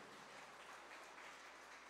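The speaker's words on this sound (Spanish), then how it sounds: "Demos un aplauso al Señor por lo que hizo con el amigo." Church congregation applauding together, a steady broadband clapping that holds evenly for the whole stretch, moderately distant and with no voices over it.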